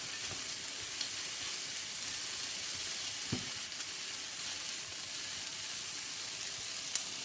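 A mixture of onion, peas and squeezy ginger sizzles steadily in a pan, a constant bright frying hiss with a few soft stirring knocks, and no voices.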